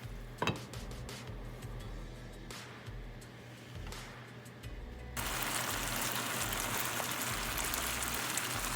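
Covered chicken tocino simmering in its own juice in a pan, a steady soft sizzling and bubbling hiss that starts quietly with a few light knocks, then swells into a louder, even rain-like simmer.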